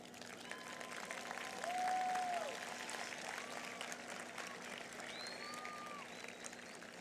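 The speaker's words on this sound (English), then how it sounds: "Can you please stand up and give a round of applause to all of the adults who have supported you" A high school graduation audience applauds the adults who supported the class of 2021, producing a steady wash of distant clapping from a large crowd with a few faint whistles on top.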